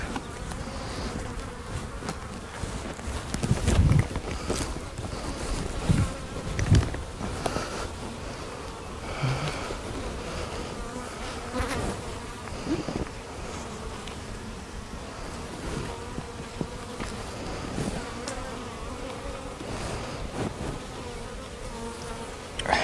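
Honey bees buzz steadily around an open hive during a colony inspection, a dense droning swarm sound with occasional louder passes close by and a few soft knocks of frames being handled.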